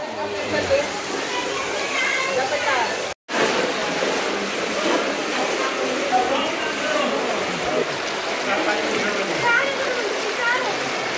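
Rushing flood water in Morang flows as a steady, dense roar of churning water, close and continuous, with people talking over it.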